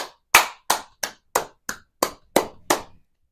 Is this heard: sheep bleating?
no